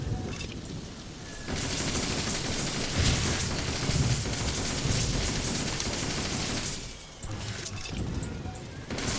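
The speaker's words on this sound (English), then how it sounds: "Now we've got a heavier machine gun, it's going to be a lot easier to deal with." A heavy machine gun fires in the toy-soldier war game Toy Soldiers, long, loud, dense bursts with crashes and explosions mixed in, broken by brief lulls.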